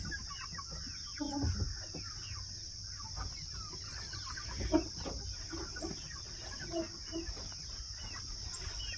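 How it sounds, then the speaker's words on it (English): Soft, scattered clucking from several chickens, fairly faint against a steady high insect-like hiss and low background rumble. "Chickens!"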